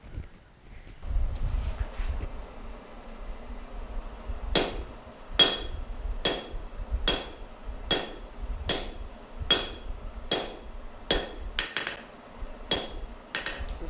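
A hammer forges half-inch round steel stock over an anvil's horn and flat face, striking a dozen loud, ringing blows at a steady rhythm with no talking.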